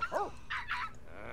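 Dogs barking in The Sims 3 video game, a few short, yelping barks in quick succession, fairly faint under a low background hum.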